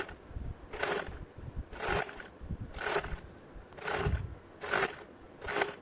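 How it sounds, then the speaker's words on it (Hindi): A sewing machine stitches folded dupatta fabric in six short, evenly spaced bursts of whirring mechanical clatter, close and loud, with brief pauses between runs. "अब इसके इस साइड को भी हम फोल्ड करके स्टिच कर देंगे।"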